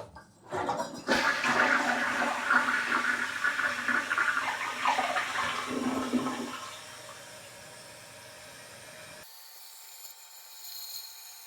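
A standard Sterling toilet with a 1.6-gallon flush in a Hilton Pensacola Beach hotel bathroom gives a loud rushing flush that swirls for several seconds, then tapers into a quieter trickle and tank refill.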